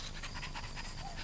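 A cartoon toy dog pants in quick, steady, breathy rhythm, close and continuous, with no talk over it.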